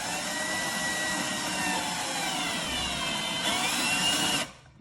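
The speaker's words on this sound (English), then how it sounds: "Now screwing it in." VIWKO 20V cordless drill driving in a screw, a steady whirring motor hum that holds for about four seconds, rises slightly near the end, then stops, close and alone.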